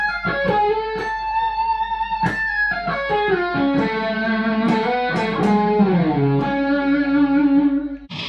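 A fast distorted electric guitar lick in a 1988 style, in Mixolydian flat 6 with sweep-picked arpeggios: rapid cascading notes that climb and slide down to a held, effect-laden tone, loud and alone.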